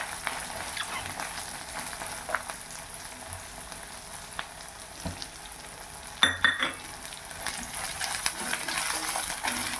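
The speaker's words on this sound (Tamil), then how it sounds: "சின்ன வெங்காயம் கொஞ்சம் சேர்த்துக்கோங்க. நல்லா வதங்கட்டோங்க." Shallots sauté in a pan for banana flower chutney, a quiet, steady sizzle with soft stirring and a brief clatter partway through.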